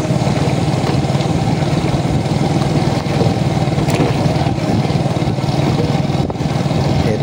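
A Yamaha YTX 125 motorcycle engine drones steadily at a constant, moderate pace while riding on a muddy road, with a rough, continuous mid-pitched hum and no talking.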